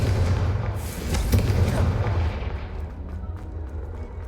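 A Confringo fire spell in a Harry Potter video game bursts against a brazier with a deep, rumbling whoosh that swells for about two seconds and then fades into a low, steady hum.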